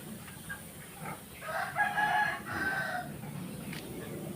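A rooster crows once in the middle distance, a drawn-out call rising over faint background clucking and farmyard ambience.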